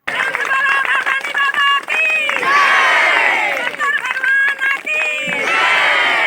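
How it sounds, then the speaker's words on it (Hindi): A crowd of thousands at a religious feast cheers and shouts, a dense, continuous roar with high raised voices rising and falling throughout, loud and close. "वहां उपस्थित हजारों की भीड़ ने हर्षनाद"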